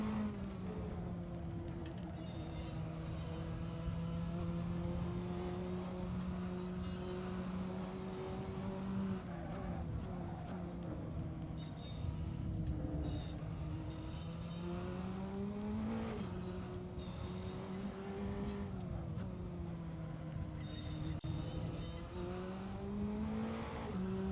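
Praga R1T Evo race car, a modded car in the Assetto Corsa racing game, drives steadily with a loud, continuous engine drone whose pitch rises and falls through gear changes, close and sustained with no talking.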